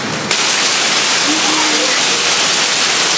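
Heavy monsoon-style rain falling steadily outdoors, a dense, even hiss of downpour that stays loud throughout after a brief sharper burst at the start, with faint voices beneath.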